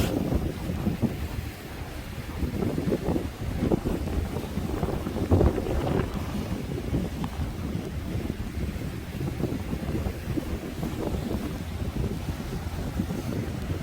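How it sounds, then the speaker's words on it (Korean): Strong typhoon gusts roar and buffet the microphone with a heavy, continuous rush, rain and stormy surf blending into the dense outdoor noise on the coast at Sokcho, South Korea. "비가 오고 바람이 불고 하니까"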